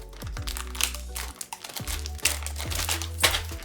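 Plastic packaging crinkles and crackles in busy irregular bursts as it is handled and pulled open, close and fairly loud.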